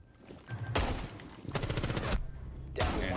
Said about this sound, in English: Guys are shooting that ghost right now.